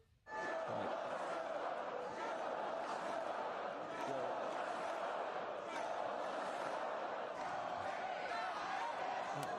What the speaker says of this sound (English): the crowd was so amped, they were happy to chant no matter what